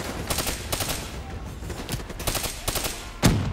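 Burst rifle fire rattles in Call of Duty Black Ops 3, with quick repeated clusters of shots over several seconds, close and loud, ending with one heavier impact.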